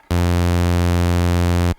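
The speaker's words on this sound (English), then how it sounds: "We got ramp waves, which is reverse sawtooth." A Synthesizers.com modular synthesizer oscillator holds a steady ramp wave, a reverse sawtooth, as one loud, bright, buzzy sustained tone of under two seconds with abrupt start and stop, alone.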